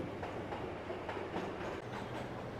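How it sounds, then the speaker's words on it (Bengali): A train rumbles steadily out of an empty subway station in the video game Max Payne, a low, continuous rolling drone with faint clacking, fairly quiet and without voices. "তো ট্রেন চলে যাচ্ছে"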